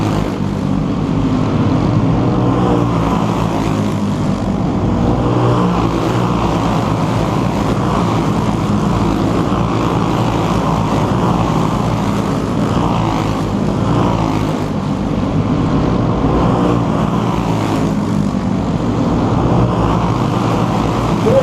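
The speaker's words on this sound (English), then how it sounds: "and Zach Williams have made a complete breakaway from the 4th place car of Austin Yarborough" Dirt late model race cars racing at Cross Roads Motorplex during the World 100, a loud, continuous engine roar that swells and fades slightly as the cars circle the track, with no voices heard.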